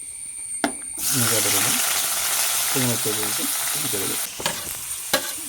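Sliced onions for biryani hit hot oil and sizzle loudly in a close pan, with steady frying hiss punctuated by clinks of a spoon stirring; a voice speaks faintly beneath.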